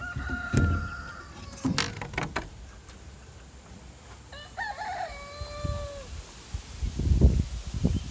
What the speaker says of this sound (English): this is the chicken coop that we have for our young chickens